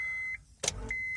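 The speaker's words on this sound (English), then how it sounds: "start the engine like this, and then I'm gonna do it again" A car with a bad battery fails to crank: a high warning beep cuts out as the key turns, followed by a short click and clunk with no engine catching, then the beep resumes.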